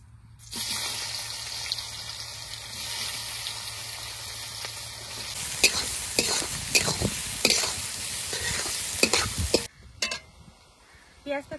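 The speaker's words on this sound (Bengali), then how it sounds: "পেঁয়াজটা একটু ভেজে নিয়েছি" Chopped onion sizzling loudly in hot oil with cumin and bay leaf, the start of a mutton curry, with a steady hiss broken by a run of scraping stirs and clinks against the pan.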